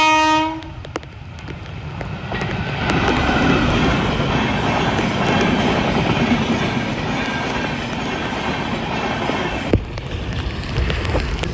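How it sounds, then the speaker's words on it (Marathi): A train passes on railway tracks beside a misty waterfall hiking trail. A horn blast opens the clip, then a loud, steady rolling rumble with rail clatter continues until near the end. "आवाज येत आहे ट्रेनचा."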